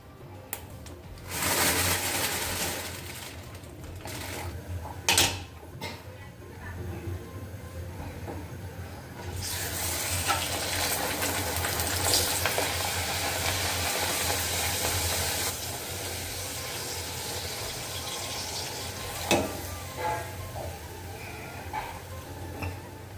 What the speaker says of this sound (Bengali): এখন আমি লুচিগুলোকে ভেজে নিচ্ছি